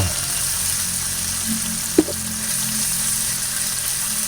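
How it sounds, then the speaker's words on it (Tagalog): Tomatoes frying in a pan while cooking mung beans, a steady close hiss of sizzling with one brief knock partway through and no talk. "So, preto-pretohin lang po natin ang ating kamatis."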